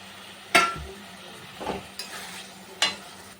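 Fish and potatoes sautéing in oil in a pan for a Bengali fish curry, with a soft sizzle under a few sharp spatula clinks and scrapes spaced across the moment.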